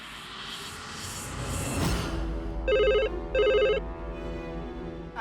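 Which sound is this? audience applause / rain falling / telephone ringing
telephone ringing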